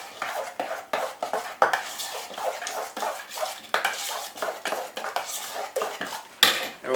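An egg stirred into pumpkin pie mixture in a bowl, with repeated clinking and scraping of a utensil against the dish in an uneven rhythm, close up and moderately quiet, with no talking.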